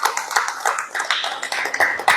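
Audience applause at a church visitation gathering, a steady patter of many hands clapping close by, with irregular bursts and no talking over it.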